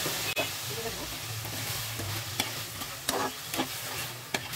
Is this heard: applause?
no